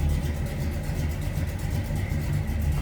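Deep, steady idle of a 1960 Ford Starliner Club Victoria two-door hardtop engine, a low throaty rumble that holds constant throughout.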